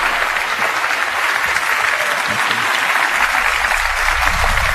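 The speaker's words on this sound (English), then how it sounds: "But give Bridget a round of applause for trying." A studio audience at a televised performance show applauds a performer, broad and sustained clapping from many hands at an even level throughout, with no talk over it.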